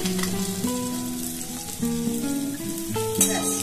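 A pinch of asafoetida sizzles in hot oil as a tempering before dal is added, with a steady close crackle and frying hiss, while a sustained tonal hum, probably background music, runs underneath.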